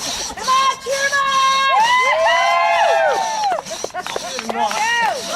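A crowd at a timber sawing contest cheers and whoops loudly throughout, with shouting voices layered over one another, while people call out encouragement.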